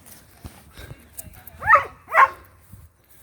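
Two dogs outdoors give a pair of loud, close barks in quick succession, with quieter rustling and faint vocal sounds around them.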